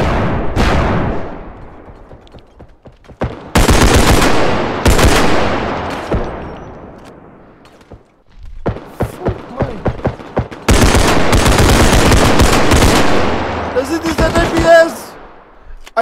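Loud gunfire in the realistic first-person shooter Bodycam: single sharp shots, then long rapid bursts of automatic fire close by, with a lull between volleys and a shouting voice mixed in.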